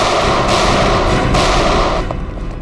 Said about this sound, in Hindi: Firing range.